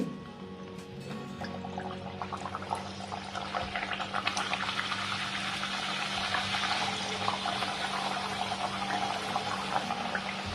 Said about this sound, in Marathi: कमी फ्लेमवरच आपण आता पुरी तळून घेऊ